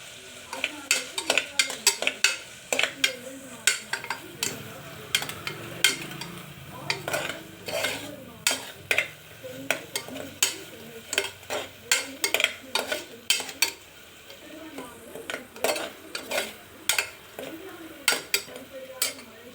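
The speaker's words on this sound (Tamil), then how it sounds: "கல்லுப்பு லைட்டாக சேர்த்து நீங்கள் நல்லா வதக்கிக்கோங்க" Rice and lentils sautéed with rock salt in a pan for a simple rice-and-dal dish, a spoon scraping and stirring in frequent sharp clacks over a faint background sizzle, close and steady, with no talking.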